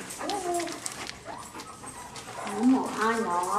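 A four-week-old Golden Retriever puppy yips and whimpers in short high cries close by, mixed with people talking.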